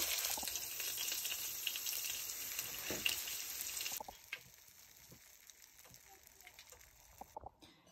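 Hilsa fish frying in oil, a loud close sizzle for the first half that drops to a quieter crackle, with a few clinks of a utensil near the end.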